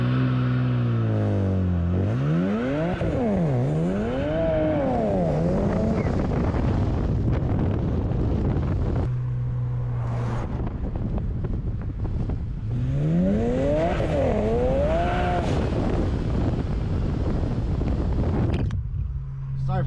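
A car accelerates hard while driving, with engine revs rising and falling in repeated surges under heavy wind rush, loud and close from inside the vehicle.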